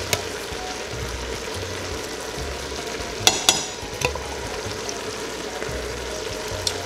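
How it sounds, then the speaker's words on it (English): A whole can of San Marzano tomatoes is dumped into a pot of sizzling meat while cooking spaghetti, giving a steady close sizzle and stir with a few brief wet plops and clunks partway through. "Just gonna dump the whole can in there."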